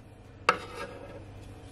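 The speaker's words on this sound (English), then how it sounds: "So my plantain, I'm just gonna cut it up." One crisp knife chop through ripe plantain on a board, a single sharp close cut followed by a faint softer tap.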